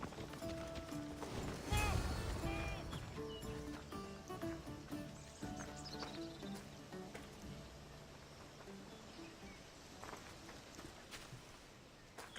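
Horse hooves clip-clop in Assassin's Creed Odyssey ahead of a horse race, a moderate rhythmic trot strongest early on and then fading behind game music and ambience.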